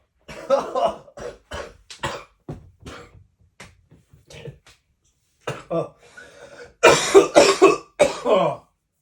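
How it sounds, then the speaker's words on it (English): A person coughs repeatedly, with short harsh bursts scattered through, building into a loud cluster of hacking coughs near the end. "I'm coughing my guts up"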